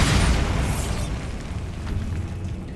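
Bombarda blasting spell in the Hogwarts Legacy video game, a single loud close explosion that bursts at once and then trails off into a rumbling, crackling decay.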